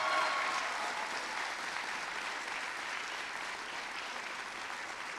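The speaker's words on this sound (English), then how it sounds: "can we give them a round of applause?" Audience at a city budget address applauds teachers and staff, a steady mass of clapping hands, strongest at the start and easing slightly while continuing to the end.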